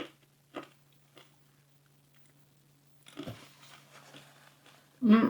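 Crunchy carnivore cheese snack being bitten and chewed up close: a few sharp crisp crunches spaced apart, then a brief burst of chewing and a louder crunch at the end, with quiet room tone between.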